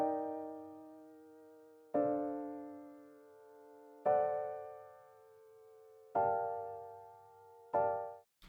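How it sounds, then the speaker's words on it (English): Piano chords from the Kontakt Noir library ring out one after another, five struck chords spaced about two seconds apart, each decaying slowly, clear and close, with no talking. "Then I layered the exact same chords with this piano."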